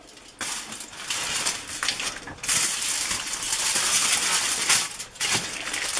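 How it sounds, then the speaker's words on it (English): Jam roly poly being wrapped in aluminium foil, with loud, close crinkling and crumpling in irregular bursts throughout. "And then all I'm going to do is pop it in the foil."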